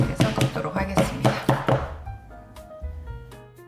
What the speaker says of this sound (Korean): 오븐팬에 넣기 전에 한번 탕탕 팬째로 작업대 치셔가지고 구우면 되기 때문에